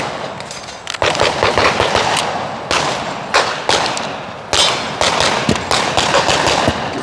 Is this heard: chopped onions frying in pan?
no